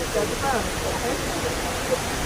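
An indoor waterfall inside Dubai Mall gives off a steady, broad rushing wash of falling water that fills the space evenly. A person's voice can be heard faintly over it.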